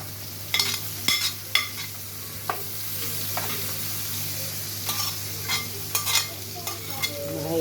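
Onion, pepper and garlic fry in a pan with a steady low sizzle, punctuated by repeated scraping stirs of a spoon at irregular intervals, close and without talk.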